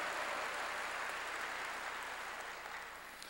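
A church congregation applauds together, a dense, steady wash of many hands clapping at once, fairly faint and even, easing off slightly toward the end.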